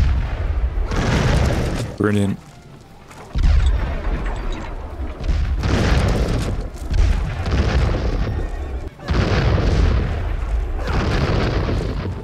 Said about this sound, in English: Right, we have two cannons as well. Double the damage, in theory.